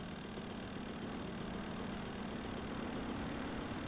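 A motorbike idling in GTA Vice City, a faint, steady low engine rumble running evenly with no revving.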